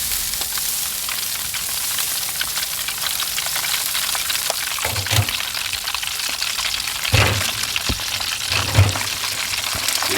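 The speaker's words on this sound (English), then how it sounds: "Let's spray some water now." Steady crackling sizzle of pork ribs on a hot grill, with a few brief hissing bursts as water is sprayed onto the ribs.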